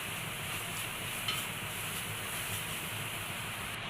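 Banana sautéing in ghee in a pan gives a constant hissing sizzle with faint stirring, and one small scrape as the pieces are scooped out.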